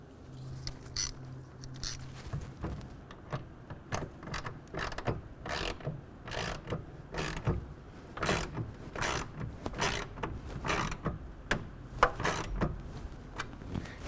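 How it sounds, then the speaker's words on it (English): Ratchet tightening a tonneau cover clamp on a 2023 Ford F250, a quick series of close, crisp clicking strokes repeating in bursts over a faint background hum. "We're going to take a 1/2 inch wrench or ratchet, and we're going to tighten it down."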